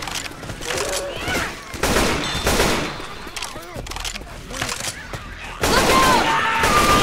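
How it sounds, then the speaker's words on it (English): Repeated bursts of automatic weapons fire from Left 4 Dead 2 gameplay come in loud, dense volleys with brief gaps, while game character voices speak between and over the shooting. "Keep firing while I heal you."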